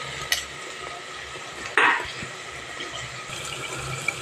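Potatoes and spices are stirred in a cooking pot, with a few soft scrapes and clinks and one louder clatter of the spoon against metal partway through. The sounds are fairly close, with no one speaking.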